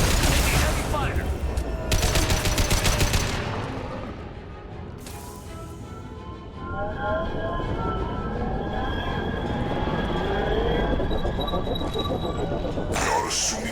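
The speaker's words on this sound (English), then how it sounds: "Taking heavy fire." Heavy gunfire in Mass Effect 2 aboard the Collector ship, with loud bursts of rapid automatic fire, a quieter stretch, then renewed sustained shooting mixed with electronic whines and game voices speaking.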